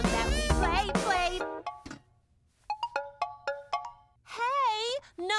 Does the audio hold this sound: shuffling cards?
no